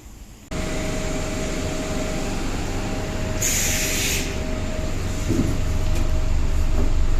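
An electric ER2 train in Ukraine starts up abruptly with a loud, steady mechanical hum and rumble, a thin whine running through it and a brief hissing burst of air partway along.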